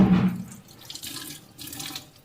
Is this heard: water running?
yes